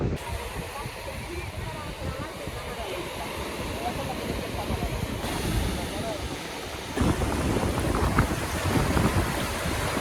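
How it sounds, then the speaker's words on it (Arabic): Strong wind buffets the microphone in a constant low rumble and roar at the coast in Almería, Spain, gusting harder partway through, with a voice faintly audible beneath it. "ما عرفتش علاش كاين الريح"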